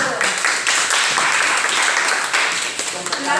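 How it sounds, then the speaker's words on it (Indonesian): Applause from a classroom of students after a group presentation, a dense steady patter of clapping hands, fairly close, lasting a few seconds with voices mixed in. "Berikan tepuk tangan dulu."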